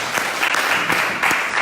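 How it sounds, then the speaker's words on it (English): Steady audience applause at a political rally for an election campaign, dense clapping filling the whole stretch at fairly close, even loudness with no talking. "Give her another big round of applause."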